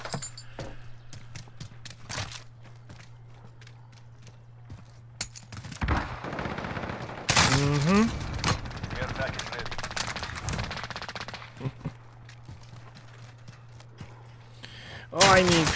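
Call of Duty Warzone gunfire at close range comes as scattered single shots early, then a loud, dense burst of rapid fire in the middle, with someone talking over much of it.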